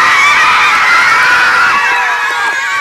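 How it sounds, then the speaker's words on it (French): A loud crowd at a competition results announcement erupts in sustained high-pitched cheering and screaming, close and dense, with excited voices blending into a continuous roar. "un tonnerre, un orage d'applaudissements"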